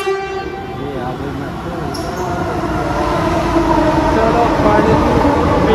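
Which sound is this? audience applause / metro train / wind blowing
metro train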